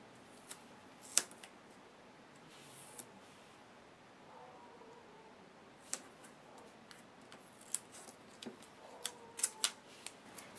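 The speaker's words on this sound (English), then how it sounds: "And then I'm going to take my scissors." A few sharp, separate snips of scissors cutting washi tape, close and crisp, scattered over a quiet background with pauses in between.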